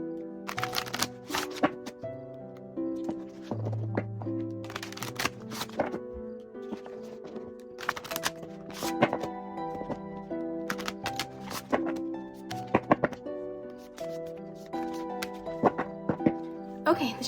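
Tarot cards shuffled by hand in quick papery riffles and taps repeating throughout, close and moderately loud, under steady gentle background music.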